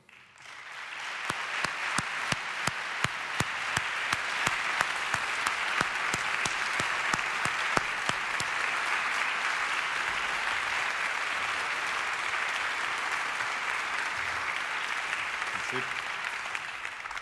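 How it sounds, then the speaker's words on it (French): A ceremony audience at the Prix du Québec breaks into sustained applause that swells quickly and holds steady, dense and even, with a few sharper individual claps standing out early on. "Je les invite à se lever pour qu'on les applaudisse chaudement."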